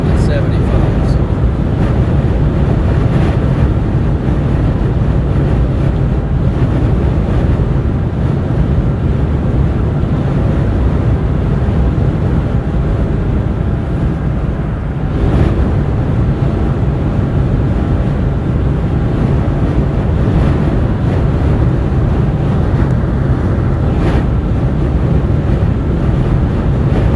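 Strong crosswind on Interstate 80 in Nebraska during a high wind warning, a constant loud roar of wind buffeting the microphone from a moving vehicle, sustained and dense throughout, with a voice partly buried in it.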